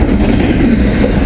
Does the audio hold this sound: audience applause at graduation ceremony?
no